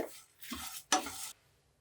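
Scraping and stirring in a dry pan, a few bursts of gritty rustling with soft sizzle, close up, no talking.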